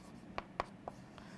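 A pen writing notes by hand on paper gives three or four short, soft scratches spaced about a beat apart, close and quiet against faint background hiss.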